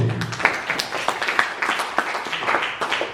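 An audience claps and applauds at an official handover ceremony speech for the education department in Seram Bagian Timur. The applause is a dense, lively patter of many hands, moderately loud and sustained for a few seconds.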